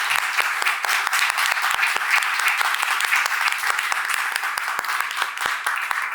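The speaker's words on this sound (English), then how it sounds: "please join me in a very big and warm round of applause for our speakers here" Dense, steady audience applause for speakers at a data-protection conference breakout session, many hands clapping evenly throughout with no pause, loud and close.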